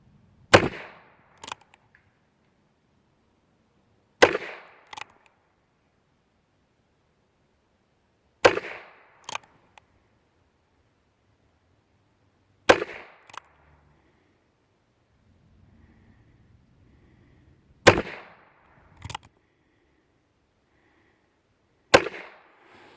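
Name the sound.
Norma TAC .22 rimfire rounds being test-fired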